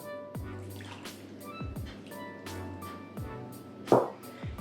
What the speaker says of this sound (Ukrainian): Сюди додаю 150 мг води.